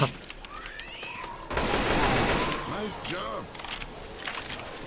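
Gunfire in Left 4 Dead 2 while the player runs through a dark wood level, a burst of rapid shots amid game noise, with people talking over it.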